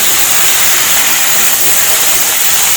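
Thoothuvalai greens sautéing in a pan, a loud, dense, continuous hiss with no voices.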